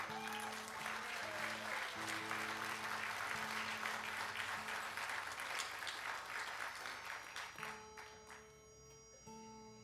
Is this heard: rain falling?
no